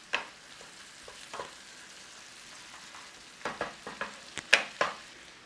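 Celery and carrots frying in a pan for shepherd's pie, a faint low sizzle broken by scraping stir strokes and louder clinks and rattles of a utensil against the pan toward the end.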